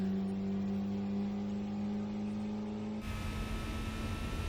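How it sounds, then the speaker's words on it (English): Racing cars in Gran Turismo 4 hold a steady engine drone with a strange high-pitched whine layered over it, loud and continuous, and the tone shifts abruptly near the end as the engine note changes. "One of those cars sounded like you could hear like some sort of high-pitched noise, which was really strange."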